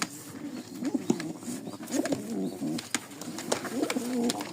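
A pair of Lakka fancy pigeons coo close by in repeated soft, throaty phrases, calm and alone with faint background rustle.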